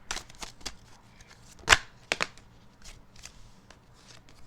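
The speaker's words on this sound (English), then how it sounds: "I'm going to go ahead and shuffle to get you a card." Tarot cards are shuffled by hand, a series of close, crisp riffles and sharp card snaps in irregular rhythm, with one louder slap midway and quieter rustling between, no voices present.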